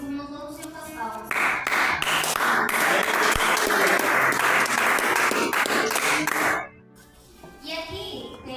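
A church congregation breaks into loud, dense clapping that holds steady for several seconds, then cuts off as a voice resumes speaking.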